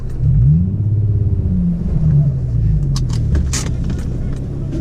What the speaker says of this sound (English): let's get to burning out